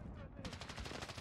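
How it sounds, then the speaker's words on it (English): Sentry gun in Call of Duty: Modern Warfare opening fire after a brief lull, a rapid, steady stream of loud automatic shots in evenly spaced bursts with no voices. "Friendly sentry gun online."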